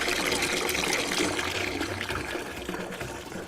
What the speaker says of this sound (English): Fair trade beans paid for this water pump, providing clean, fresh drinking water for everyone